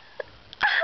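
A young child sneezes once, a sudden loud burst near the end after a couple of small sniffs and breaths.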